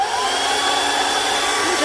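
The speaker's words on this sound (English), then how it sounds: "So what I want to do is use my hair dryer." A hair dryer blows steadily to dry paint, a loud, continuous whooshing roar with a faint whining motor tone, close and unbroken throughout.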